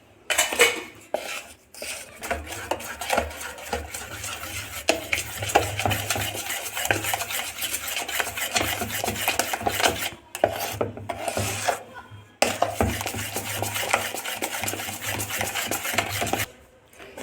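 A spoon scrapes and clinks rhythmically against a bowl while mixing nylon dhokla batter, steady close stirring with brief pauses, no voices.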